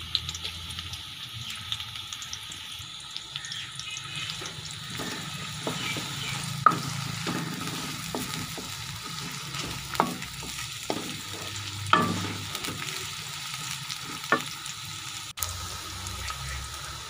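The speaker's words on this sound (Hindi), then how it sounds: "तो सबसे पहले घी में प्याज डाल देंगे।" Onions sizzle steadily in hot ghee while a spoon stirs them, with scattered sharp scrapes and clinks against the pan over the continuous frying hiss, close and at moderate volume.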